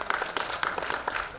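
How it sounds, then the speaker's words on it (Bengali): An audience at an annual school dance festival claps in a short, moderately loud burst of applause, uneven hand claps overlapping with no voices. "জোরে হাততালি চাই"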